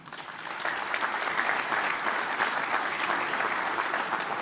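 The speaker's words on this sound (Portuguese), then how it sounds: "mais uma vez, o aplauso ao Congresso Nacional" Audience applause at an Industry Day event with President Lula, a dense, steady wash of clapping that starts quickly and holds evenly throughout.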